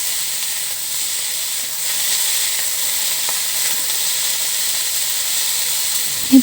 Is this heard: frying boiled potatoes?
yes